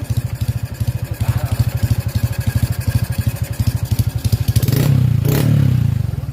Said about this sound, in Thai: มาลองเร่งดู